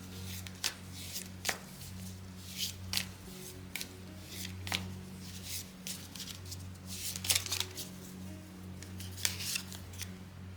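A deck of tea leaf oracle cards is shuffled by hand, giving repeated crisp riffling snaps and soft sliding rustles close by, with a low steady hum underneath.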